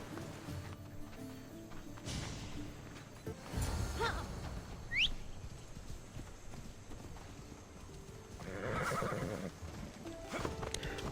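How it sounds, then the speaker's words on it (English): A horse in Assassin's Creed Odyssey whinnies and its hooves clip-clop along, with a sharp whistle-like squeal mid-way and a second burst of hoofbeats later. "My cool and much better horse."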